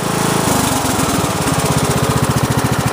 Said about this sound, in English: Engine's running great on this machine.